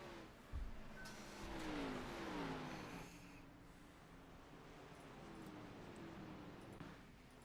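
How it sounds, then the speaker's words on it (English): Race car in a Bristol Xfinity Series racing video game spinning out on the track, engine revving and whining with a sharp early thump, then a steady engine drone carrying on alone for several seconds. "Oh, we got a car spinning around."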